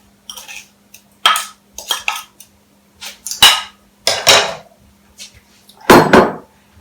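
Brown sugar is mixed into a pound of sausage in a bowl, heard as a series of sharp, close scraping and clattering strokes in irregular bursts with brief silences between them.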